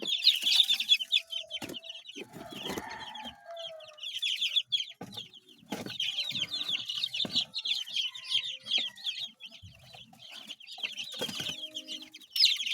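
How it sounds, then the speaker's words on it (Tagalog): Chicks gathered together under a light, peeping in shrill, rapid chorus with occasional low clucks; continuous, close and lively, with brief knocks and rustles between calls. "Ayan po ang ating mga sisiw."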